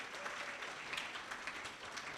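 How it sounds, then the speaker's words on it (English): Audience applause at a faculty leadership panel, a steady wash of clapping at moderate distance, fairly quiet throughout. "And so if you would give Mevish a round of applause for all that she has done."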